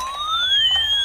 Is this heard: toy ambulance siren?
yes